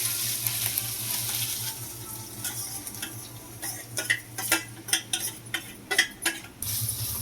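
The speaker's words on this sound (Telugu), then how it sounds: "ఇప్పుడు ఆ నెయ్యిలో ఈ బీట్రూట్ తురుగును అయితే యాడ్ చేసుకుంటున్నాను" Grated beetroot sizzles in ghee in a pan for beetroot halwa, a steady high fry hiss with a run of sharp utensil scrapes and taps near the end as it is stirred.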